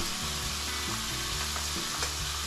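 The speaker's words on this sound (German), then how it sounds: "wenn ich gerade beim Braten bin" Food sizzling and frying steadily in a pan in a home kitchen, a dense continuous crackle with occasional soft clinks of stirring, no voices.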